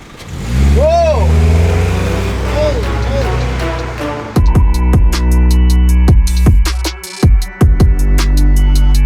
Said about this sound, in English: we're going for a drive in an 800 horsepower R34, not GTR